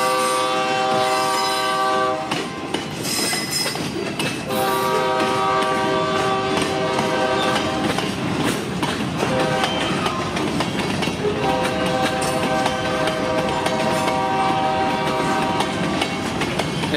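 An empty freight train rumbles past up close with a loud, sustained horn blaring in long blasts, wheels clattering steadily underneath.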